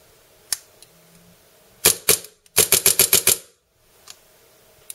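Custom Tokyo Marui Hi-Capa 5.1 airsoft pistol in a Springfield Armory Bureau Operator build being test fired: a lone snap, a quick pair of shots, then a rapid string of about six sharp cracks and a few softer clicks, close and crisp, no speech.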